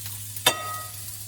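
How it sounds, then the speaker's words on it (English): Chopped onion dropped into hot olive oil in a pan, giving a sudden loud burst of sizzling that settles into a steady, quieter frying hiss. "Now I'm going to put in my onion."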